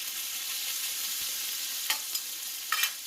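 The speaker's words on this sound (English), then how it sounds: "So I just want to mix this together." Pork fried rice stirred on a 36-inch Blackstone griddle, a steady hissing sizzle broken by a few scraping spatula strokes near the end, close and with no talk.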